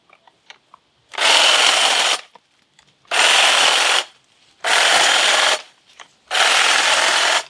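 A red dogwood bush (Cornus alba 'Sibirica') is trimmed in a garden, with four loud, close bursts of about a second each of buzzing powered cutting, separated by short quiet gaps.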